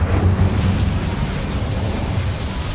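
The Incendio fire spell in Hogwarts Legacy erupts as a loud, close roaring burst of flame that starts strong and fades slightly over a few seconds, with no talk.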